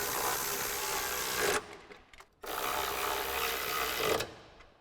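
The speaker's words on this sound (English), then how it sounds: "Then we can take our ratchet and tighten them down." Running board bracket bolts on a 2020-2024 Silverado or Sierra 2500 driven with a power ratchet: two loud sustained whirring runs of about one and a half seconds each, separated by a brief quiet gap with small clicks.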